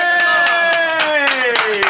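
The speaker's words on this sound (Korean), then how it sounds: "자 박수 한번 치세요" Clapping in a Korean hip-hop radio studio, with hand claps spaced about every quarter second, loud and close, while a sustained tonal voice or music runs underneath.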